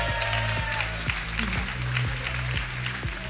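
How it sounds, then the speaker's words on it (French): Audience at a Master's degree graduation ceremony clapping warmly for the graduating students, dense steady applause filling the hall over background music with a regular beat. "Alors les étudiants, on les applaudit chaleureusement"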